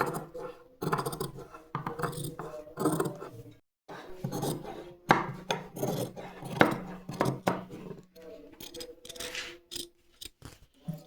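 Scissors cutting away extra cloth around a kameez neckline while stitching, making repeated close rasping snips in an uneven rhythm with short pauses between cuts and no voices.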